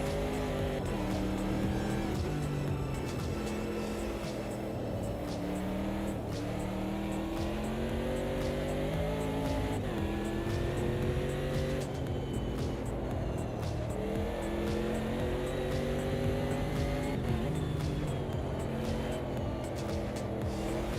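Race car engines in AMS2 racing, with a BMW coming past: a loud, sustained engine roar that rises and falls through repeated gear shifts and revving, with a car passing close by.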